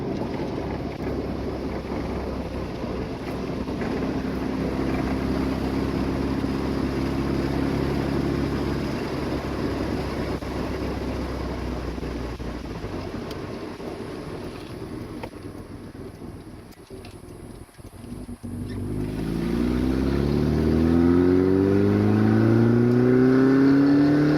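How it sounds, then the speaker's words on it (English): A Nissan 240SX S14 Zenki engine drones steadily from inside the cabin, then revs up with rising pitch as it accelerates, the hum dipping briefly before climbing again. "I'm gonna lower down the window so you guys can hear the car"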